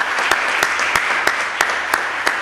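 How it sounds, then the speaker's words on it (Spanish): Applause for a contestant at a Reina del Gas y Petróleo pageant presentation: a short burst of steady crowd clapping with a few crisp, prominent claps standing out near the front. "Fuertes aplausos, por favor."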